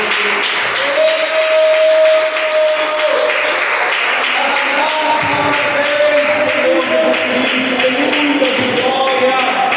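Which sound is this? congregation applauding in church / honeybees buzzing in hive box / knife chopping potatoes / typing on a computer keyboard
congregation applauding in church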